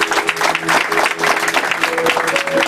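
A church congregation applauds a reverend, a dense burst of hand clapping with some crowd voices, loud and continuous throughout.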